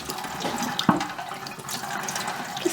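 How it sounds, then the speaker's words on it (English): Water drains from a sink after rinsing gradient-dyed yarn, a soft continuous trickle and gurgle with one brief knock, close by and without talk. "Continue letting that sink drain."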